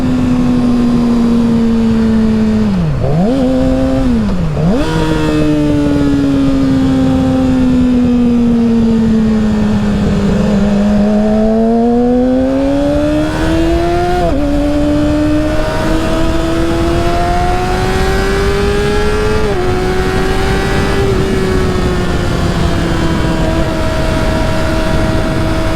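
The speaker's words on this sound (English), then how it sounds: "the thing with rev matching on this R6" A Yamaha R6 motorcycle engine revs steadily while riding, its pitch sweeping up and down through throttle blips and gear changes, loud and continuous with strong wind rush and no talk.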